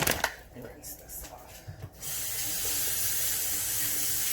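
Steady broadband rush of tap water runs at a kitchen sink while shrimp and grits are being cooked, a shrimp-and-onion mix set aside nearby; the flow starts after a couple of seconds of clatter and continues loudly and evenly to the end.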